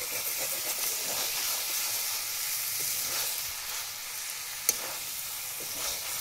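Eel pieces frying with spices in a pan give a steady, loud sizzle and hiss, with faint stirring scrapes and one sharp clink near the end.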